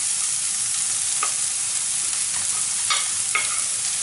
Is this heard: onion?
yes